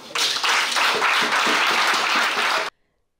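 Loud, dense applause from a church congregation of evangelicals in Yopougon, cheering their leader, a continuous burst of clapping lasting a few seconds before cutting off abruptly.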